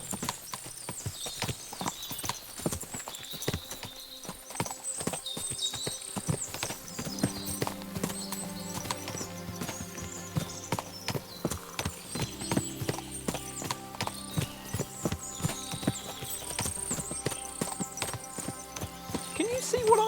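Horses clip-clop steadily on the ground in the medieval game Kingdom Come: Deliverance II, with an occasional whinny, music playing underneath and faint voices.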